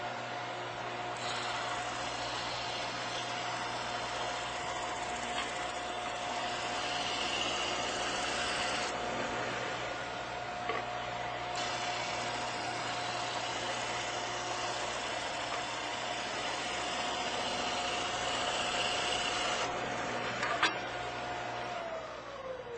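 A Shopsmith SS101 conical sander runs steadily as a board is pushed through it for sanding, a continuous motor drone with a constant whine, close and loud, with no talking.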